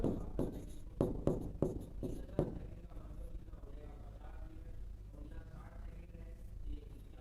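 Writing on a board during a physics class, with a quick series of scratchy strokes at first and then quieter, sparser marks over low background hum, with faint speech underneath.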